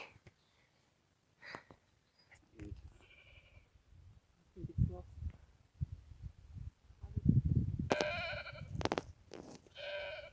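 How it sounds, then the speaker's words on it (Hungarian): A lost mountain goat on a rocky hillside in Andalusia, Spain, bleating in a few plaintive, wavering cries, with sniffing and breathy noises close by between calls. "Itt egy kecske, egy hegyi kecske, aki elveszett."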